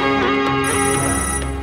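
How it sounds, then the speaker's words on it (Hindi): A phone rings steadily and loudly in a Hindi political action film, a continuous electronic ringtone filling the short moment with no talk over it. "दीनानाथ का फोन है।"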